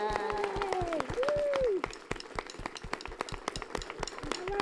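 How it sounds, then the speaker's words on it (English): An audience claps for the visiting Milwaukee band on a music television show, scattered sharp claps that run on briefly over a fading sustained musical tone. "Can we give them a round of applause?"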